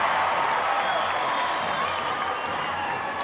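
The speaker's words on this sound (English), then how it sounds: "The crowd roars as Hortensia lines up at the free throw line and hits her first point." A basketball crowd at a FIBA Women's World Cup game between China and Brazil roars steadily as a player lines up at the free throw line, a dense, continuous wash of cheering and applause filling the arena.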